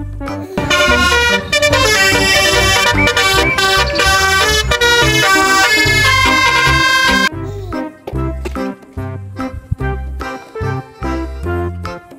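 A telolet bus horn plays a bright, tuneful run of repeated musical toots for about seven seconds, loud and close, followed by light background music.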